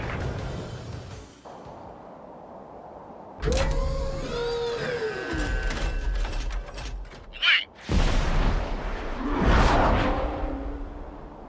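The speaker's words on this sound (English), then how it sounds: "UAV is ready to launch. Away." A UAV launching in Ace Combat 7, with a sudden mechanical surge and whirring, a brief high-pitched burst, then a loud rushing whoosh as it departs, heard over low background rumble.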